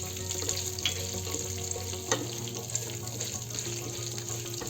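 Urad dal and chana dal roast in a pan with curry leaves, giving a steady, close frying crackle and occasional light stirring scrapes under a low hum. No one speaks.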